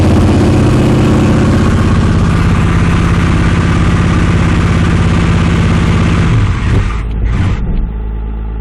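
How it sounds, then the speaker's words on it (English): A truck's power steering pump squeaks during an early-morning cold start, a steady thin whine riding over the loud, continuous idle of the engine until the rumble drops off near the end. "Squeaking you're hearing is the power steering pump."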